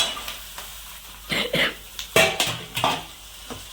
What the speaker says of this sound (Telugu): ఇప్పుడు చిక్కుడుకాయ ముక్కలు వేసేసుకుంటున్నానండి.